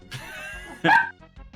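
A dog in a house gives one short, fairly loud bark, with faint yipping and soft sounds before and after it.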